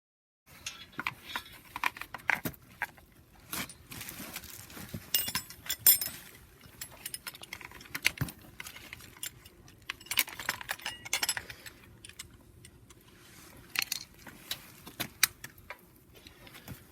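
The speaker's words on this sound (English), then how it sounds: "So now time to bolt the pressure plate in place." Metal clinks and ticks sound as bolts are fitted and tightened to fix a self-adjusting pressure plate onto the flywheel of a BMW 135i N54 E82, irregular close taps and jingles scattered over a quiet workshop background.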